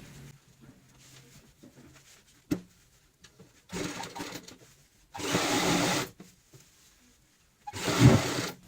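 A sewing machine stitches a pillow or cushion cover in three short bursts of running, each under a second long, separated by quiet pauses and faint handling noises.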